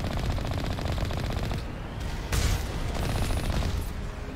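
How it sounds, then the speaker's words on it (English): Heavy turrets blast away in Mass Effect 1 Legendary Edition, rapid machine-gun-like bursts hammering continuously with a few heavier booms, loud and close with no talking. "Heavy turrets. Similar to ones that we've seen on other planets, but these ones are ripping through our shields."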